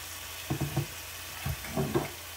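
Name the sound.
stir-frying noodles in a wok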